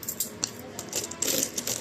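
Many coins clink and rattle together in a steady jangle of light metallic taps, fairly quiet and close, with no talking.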